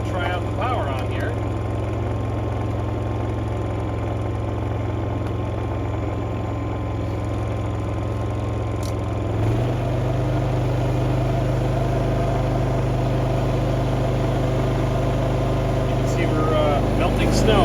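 A Predator 5000 generator runs outdoors with a continuous, loud engine drone that holds a steady idle. The pitch and level shift slightly partway through, and someone talks briefly over it.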